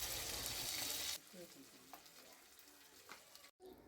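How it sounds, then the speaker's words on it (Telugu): Curry leaves and onions hit hot oil in a pot, giving a loud, hissing sizzle for about a second before it settles into quieter crackling and light stirring sounds. "తీసుకున్నాక అందులో కరివేపాకు వేసుకోండి. తర్వాత ఉల్లిగడ్డలు వేసుకోండి."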